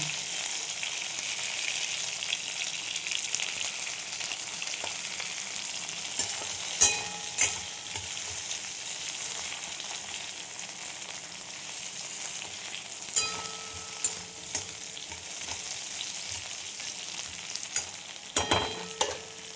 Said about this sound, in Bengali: উচ্ছে কেটে নিয়েছি আমি লম্বা লম্বা করে দুটো। উচ্ছেগুলো ভেজে নেব।